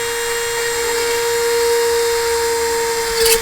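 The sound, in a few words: power drill drilling hole in lure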